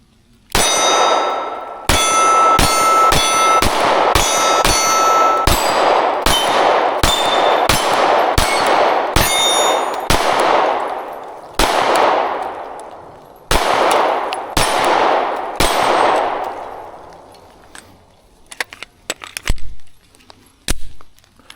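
MC9 Prime 9mm pistol fired one-handed with 115 grain rounds from stock magazines, a rapid string of sharp loud shots with metallic steel-target clangs ringing after each, then a few spaced final shots and quiet.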